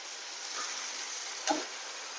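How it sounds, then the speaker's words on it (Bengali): Onions sizzle and fry steadily in a pan with onion, garlic and spice pastes added for a tomato fish curry, a soft continuous hiss with one brief clink near the end. "পেঁয়াজটা লাল লাল হয়ে গেছে, মশলা দিয়ে দিব"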